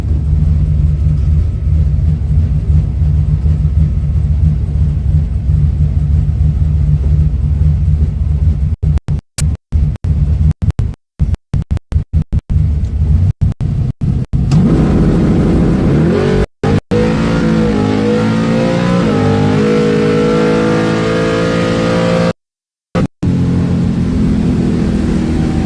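A bracket racing car roars down the drag strip, heard from inside the cockpit. The engine drone stays loud and constant, then climbs in pitch through gear changes, with brief dropouts in the sound.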